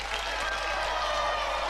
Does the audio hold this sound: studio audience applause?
yes